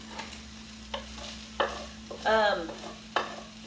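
Fruit rice sizzles softly in a pan as a utensil stirs and scrapes it in several distinct strokes. One stroke brings a louder burst of frying, and no one speaks.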